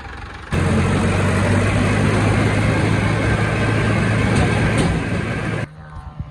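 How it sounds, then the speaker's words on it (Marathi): A Mahindra 575 Yuvo tractor engine runs close by in a steady, loud, low drone, holding an even level for several seconds before it abruptly drops away. "आता आम्ही चाललोय घरी हा ट्रॅक्टर घेऊन. 575 महिंद्रा युओ आमचं."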